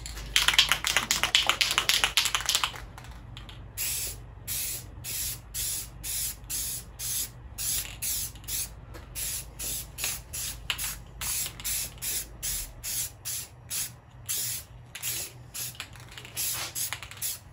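A spray paint can hisses close by in one long blast, then in many short regular bursts, each puff separated by a brief gap, coating a glove box for a 1936 Chevy coupe.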